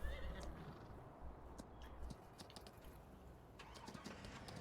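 Horse neighing and whinnying in Farming Simulator 19, with clip-clop hooves and a faint engine in the background under a steady game soundscape.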